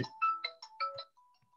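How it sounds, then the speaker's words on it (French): A mobile phone plays a short, bright melodic ringtone of quick rising and falling tones, clear and close in an otherwise quiet indoor setting, ending in a faint trailing note. "j'ai mon téléphone qui sonnait"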